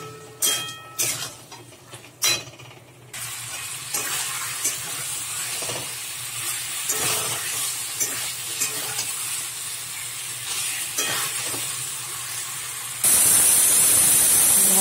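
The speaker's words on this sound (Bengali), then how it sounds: "দিয়ে এবারে ভালো করে কষাবো মাংসটা।" Mutton marinated with salt, turmeric and chopped onion being stir-fried in spiced oil, a loud continuous sizzle and hiss after a few sharp clattering knocks at the start, ending in a harsh steady hiss.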